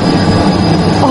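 A steady airplane engine roar inside an aircraft in the online game Bin Weevils, a loud, even drone with no change in pitch, filling the whole moment without any voices.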